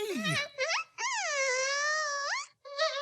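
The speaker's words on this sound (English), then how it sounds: "That buzzing noise means something." Cartoon bee buzzing voiced with rising and falling wavering tones, alone and fairly loud, in three bursts separated by brief pauses, the long middle buzz sustained steadily before sliding upward.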